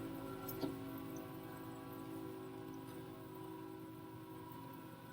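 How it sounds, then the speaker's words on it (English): A train passing nearby produces a low, steady rumble with a droning hum that holds evenly and fairly faint throughout, with no voices over it. "that train gets loud sometimes"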